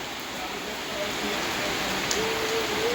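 Steady rain falling during a thunderstorm with lightning, an even hiss of rain on surfaces filling the background, with no thunder clearly standing out and no talking.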